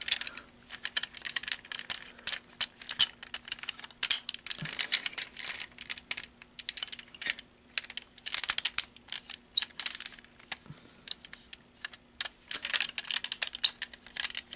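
Small plastic clicks and rattles from a transforming action figure's leg being folded up at the knee joint, a dense run of light ticking and clattering close by with no talk, over a faint steady hum.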